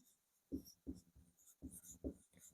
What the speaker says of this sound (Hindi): यहाँ पे लिखेंगे कि भरत के अनुसार